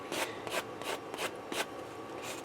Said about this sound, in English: I'm using my sanding brick.